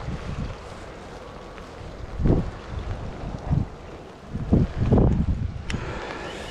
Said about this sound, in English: It's like 1 degree, raining, windy, miserable.